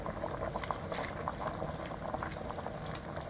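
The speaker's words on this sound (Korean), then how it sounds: "국이 맛있게 끓고 있네." Beef haejangguk soup with bean sprouts and green onion bubbles at a rolling boil in a pot, a steady close patter of popping bubbles running throughout with no one talking.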